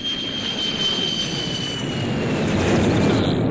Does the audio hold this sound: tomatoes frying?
no